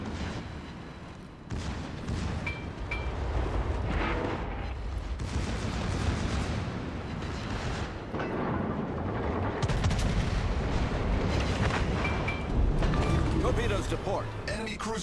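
Battleship main guns and secondary batteries fire in World of Warships, heavy booming salvos and rumbling blasts rolling continuously under a commentator's talk.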